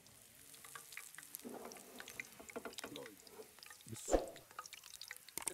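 Tadka tempering for masoor dal crackles and sizzles softly in a frying pan, a low steady fry with brief stirring scrapes and one sharper splash, heard at a quiet level.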